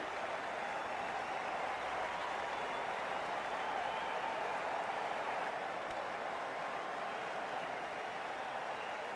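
Crowd applause rolls on without a break in the Cricket 24 video game during an IPL match, a dense, even wash of clapping at steady loudness throughout.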